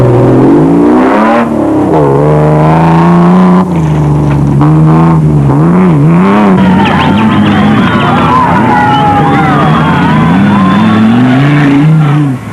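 Off-road racing vehicles at the Baberspan 500 rev and accelerate loudly, engine pitch rising and falling through gear changes as machines pass close by, with crowd noise in the background.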